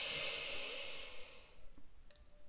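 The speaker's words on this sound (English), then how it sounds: "breathing in deeply" A long, slow inhaled breath during a guided meditation draws in as soft, airy hiss that fades into near silence with a faint sniff afterward.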